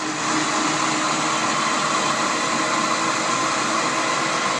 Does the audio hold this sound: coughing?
no